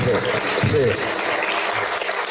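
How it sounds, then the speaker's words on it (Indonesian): Brief audience applause at a talk fills a couple of seconds with a broad clapping texture, while a voice sounds over it near the start. "Tepuk tangan semua, tepuk tangan."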